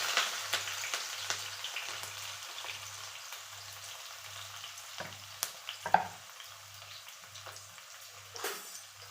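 Onions for avalakki sizzle steadily in a hot pan, a close, continuous frying hiss with occasional stirring scrapes and pops over a faint pulsing hum.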